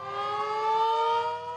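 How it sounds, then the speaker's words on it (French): A village siren sounding at 7 pm, a steady, sustained wailing tone with rich harmonics, held at a fairly even pitch and moderate distance, swelling slightly in the middle, with no talking over it. "à 19h précise, une sirène retentit."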